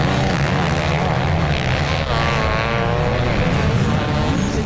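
Motocross bikes race through a rollers section at a national championship, a YZ500 two-stroke among 450 four-strokes, several engines screaming together loud and close with steady high revs throughout.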